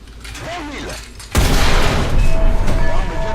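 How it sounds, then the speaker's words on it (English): A quiet start with faint voice-like tones gives way to loud, sustained gunfire in War Thunder, dense and roaring, with small metallic tings of dropping shell casings scattered through the burst. "we can actually hear the casing being dropped."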